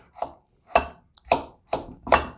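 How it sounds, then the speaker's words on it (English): A knife roughly chops strawberries and papaya in a bowl: five evenly spaced, crisp thuds, each with a short wet crunch, close and clear with silence between strokes. "Just give them a rough chop."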